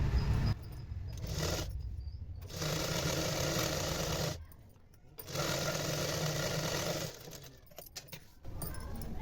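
A sewing machine stitches the folded edges of a blouse in several bursts of steady whirring, with short pauses between runs as the fabric is shifted, close and fairly loud.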